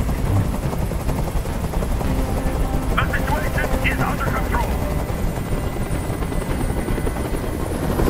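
A helicopter hovers in Detroit Become Human, its rotor producing a constant heavy whirring chop that dominates the soundscape, with a man's short spoken line heard over it midway.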